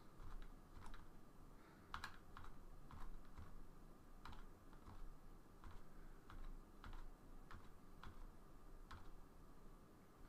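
Computer keyboard keys tap in an uneven rhythm of single presses, close and fairly quiet over a faint background hiss.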